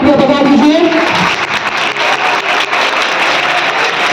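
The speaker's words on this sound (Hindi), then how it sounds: "एक बार हम अपने सम्मानित विद्वान अग्रजों बड़े भाइयों के लिए एक जोरदार तालियां बजा दीजिए" An audience at a college seminar in Sasaram claps for honored scholarly guests, the applause coming up after a brief voice at the start and continuing as a rough, steady patter.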